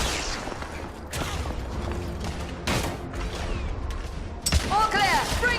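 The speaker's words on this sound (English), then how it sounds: "The Gray, lay down suppressive fire!" Suppressive gunfire in the video game The Order: 1886 sounds as bursts of shots over mechanical clanks and creaks, with a sharp crack near the end, and a character speaks over the battle sounds.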